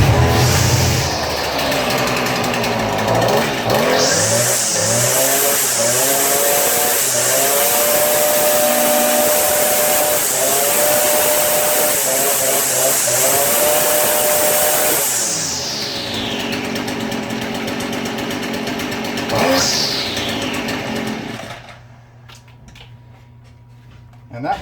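Stihl FS 56 string trimmer with power loss, running after priming, its small two-stroke engine buzzing loudly and close, revving up and down several times and holding high speed before winding down to a stop; speech is heard over it.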